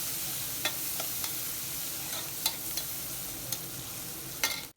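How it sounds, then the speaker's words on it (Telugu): Onions fry in oil in a pan in a village-style kitchen, a steady close sizzle broken by a few soft clicks of stirring. "ఆనియన్స్ మంచి కలర్ వచ్చే వరకు వేయించుకుందాము"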